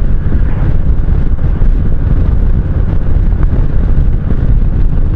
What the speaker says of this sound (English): I think it's just the turbulence of the wind going by the helmet